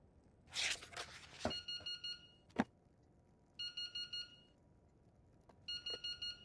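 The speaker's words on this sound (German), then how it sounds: "Wo ist denn der Wecker ausknopf?" An alarm clock in the VR game Into the Radius beeps in bursts of four quick electronic tones, repeating after pauses, with clatter and handling noises in between.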